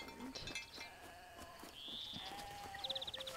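Sheep bleat faintly in the video game Alba: A Wildlife Adventure, a few short distant calls over a quiet outdoor ambience with light birdsong.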